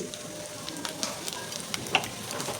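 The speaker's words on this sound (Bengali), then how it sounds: "এবার সুজিটার সাথে একটু ভেজে নিচ্ছি বন্ধুরা।" Semolina frying with coconut and nuts in a pan makes a soft, steady sizzle, with scattered light crackles and one brief clink.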